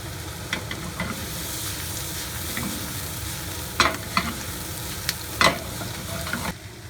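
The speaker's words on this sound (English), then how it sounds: "And we'll put the green part of the bok choy in there." Bok choy greens and tofu stir-fry in a hot pan with a steady, close sizzle, broken by a few sharp scraping stirs and clacks of a utensil.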